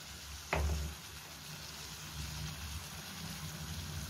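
Water hits a hot pan of fried pepper and chicken liver with a sudden loud hiss and splash, then eases into a continuous softer sizzle and bubbling.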